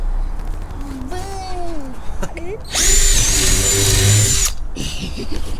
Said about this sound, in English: Is the drill drilling Chase, or is Chase using the drill?